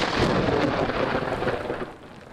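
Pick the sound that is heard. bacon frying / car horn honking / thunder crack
thunder crack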